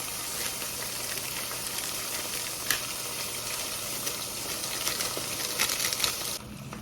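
A steady sizzling, bubbling hiss of noodle broth boiling in a pot, continuous and fairly quiet, with a faint low hum underneath.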